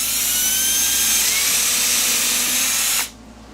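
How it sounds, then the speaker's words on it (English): A power drill bores a hole in wood with a steady, loud, high-pitched whine for about three seconds, then cuts off abruptly, leaving quiet room tone. "So then you're just going to want to try and drill a straight hole"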